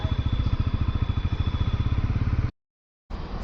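Bajaj Pulsar NS400Z motorcycle with a brand-new engine, ridden through city streets: a steady, close, pulsing engine thrum with a rhythmic low-end beat, cutting out briefly to silence before the engine note returns.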